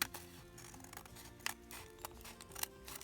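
Scissors snipping along the edge of paper for an embellishment ensemble, a close run of crisp cuts with a few sharper snips, heard alone over a soft tonal background.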